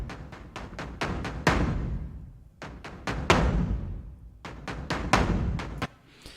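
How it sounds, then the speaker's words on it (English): Synthesized smash drums from the Maliki Epic Kontakt library: three rapid bursts of heavy, punchy electronic hits, each closing with a big crash whose boom rings out and decays before the next burst, loud and dry. "Now the smash drums are actually synthesized drums"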